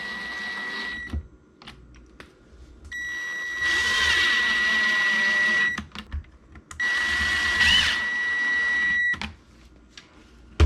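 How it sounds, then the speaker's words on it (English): A power drill drives screws straight into wooden drawer pieces for DIY pantry storage, with two sustained, close whirring bursts of a few seconds each, separated by quiet handling noises. "You can pre-drill these if you want, but I think I can just screw them right in."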